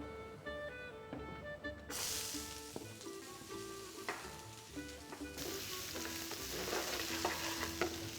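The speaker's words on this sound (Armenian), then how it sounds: "Սոխը տապակենք։" Finely diced onion fries in a pan with a steady sizzle and hiss that surges louder as it is stirred, close and alone without speech.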